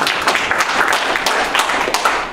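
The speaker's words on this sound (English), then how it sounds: "Let's give them a round of applause to thank them." Audience clapping to thank the sponsors at a libertarian gathering in Keene, New Hampshire. A steady, dense round of claps runs unbroken and fairly loud for the whole stretch, with no voices rising over it.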